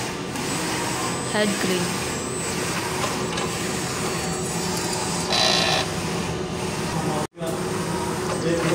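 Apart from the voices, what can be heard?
printer running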